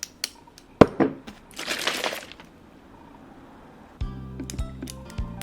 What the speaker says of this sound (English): Next, place the ice cubes.